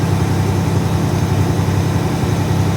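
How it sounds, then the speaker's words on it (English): A tractor and rotobeater running together during a beet harvest, a steady low engine drone with constant mechanical churn, close and loud and with no talking. "The rotobeater is going right in front of the tractor."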